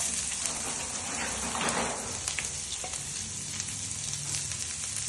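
Chopped onions sauté in melted ghee, giving a steady, close, bright sizzle with light stirring scrapes throughout and no talk.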